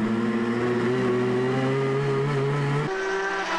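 A loud race car engine in a 1999 All-Japan GT Championship GT300 race holds a high steady whine, then drops in pitch abruptly as it shifts or lets off, close by.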